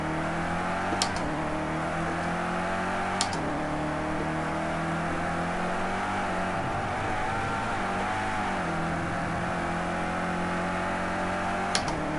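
A BMW M6 race car in Project Cars 2, its engine holding a steady droning whine with small pitch dips as traction control cuts in, and a few sharp clicks over the continuous hum.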